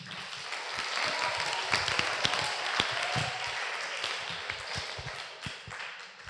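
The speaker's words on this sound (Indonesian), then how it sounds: "Tepuk tangannya dong" Audience clapping at a public Islamic discussion forum, a dense patter of hands that holds steady for several seconds at moderate level.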